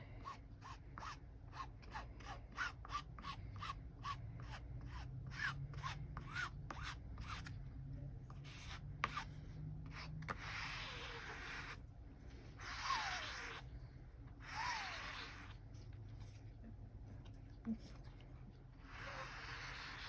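Regular light ticks give way to repeated harsh rasping strokes of a card scraping excess OdiCoat wax coating across cotton fabric, close up.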